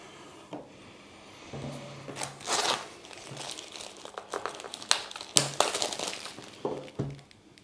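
Plastic wrap and cardboard packaging of a carbon-black Xiaomi Mi 9T smartphone crinkle and rustle up close, in irregular bursts of handling with soft thumps and scrapes as the box is opened.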